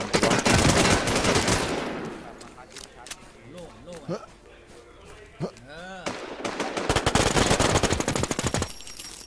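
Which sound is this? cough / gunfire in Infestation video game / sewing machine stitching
gunfire in Infestation video game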